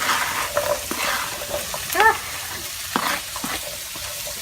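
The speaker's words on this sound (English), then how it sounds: "we're gonna let our peppers and onions cook for quite a while, but stir them frequently" Peppers and onions frying in a pan for breakfast tofu tacos, a soft steady sizzle with occasional scraping stirs and light clinks, close by and moderately loud.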